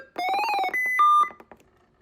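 A weather radio's short alert test sounds a quick sequence of electronic beeps and tones, clear and close, lasting under two seconds.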